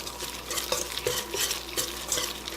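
Onions, garlic and bacon get stirred in a frying pan, with a spatula scraping and clinking in short strokes over a soft, steady sizzle close by.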